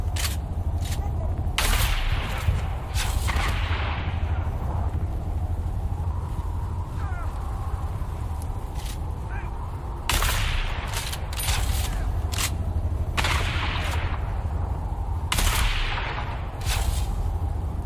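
Sniper gunfire in the video game Dune Awakening: several sharp, distant-sounding shots at irregular intervals over a steady ambient background, with a voice talking at times.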